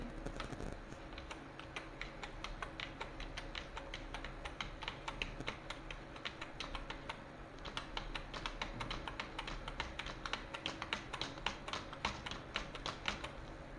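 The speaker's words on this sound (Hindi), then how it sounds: "अब मैं और भी कुछ टाइप कर लेता हूँ" Rapid, steady typing on a computer keyboard, close and quiet, with irregular clusters of key clicks and a brief pause midway, no speech over it.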